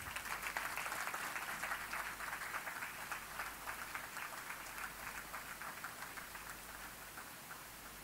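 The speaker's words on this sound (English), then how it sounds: "I just want to ask a big applause to them" Audience applause at a tribute concert celebrating 25 years, a steady wash of clapping held at an even level throughout, moderately distant and without speech on top.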